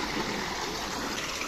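A village stream runs steadily and close by, a dense, continuous rush and gurgle of water with no voices over it.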